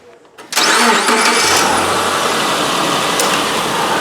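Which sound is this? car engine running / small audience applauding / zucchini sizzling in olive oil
car engine running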